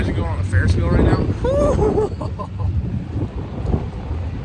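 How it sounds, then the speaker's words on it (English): Strong wind buffets the microphone at the Daytona race track, a constant rumbling roar of gusts, as people talk close by and their voices partly cut through the noise. "It is windy."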